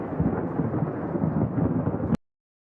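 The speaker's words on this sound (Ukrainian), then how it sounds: "Так, це гроза." A heavy thunderstorm roars with continuous rumbling thunder and rain noise, loud and sustained before cutting off abruptly into silence.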